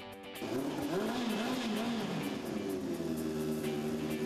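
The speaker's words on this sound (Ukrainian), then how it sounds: "коли він підходить до свого спортивного байка, коли від душі газує" A sport motorcycle engine revs hard and loud throughout, its pitch rising and falling as the throttle is worked close by, with no talk over it.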